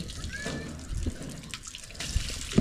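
Water from a faucet supplied by a water pump runs and splashes into a basin, making a steady close trickle with a few louder drips and knocks.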